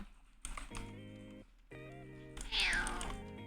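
A house cat meows close by, a rising plaintive call near the end following other short vocal and harmonic sounds, with a person speaking around it indoors.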